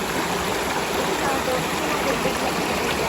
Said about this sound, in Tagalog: Ayan po ang aming ilog. Virgin River.